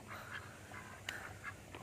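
A duck quacks repeatedly in short nasal bursts, irregularly spaced and fairly close, against quiet outdoor background.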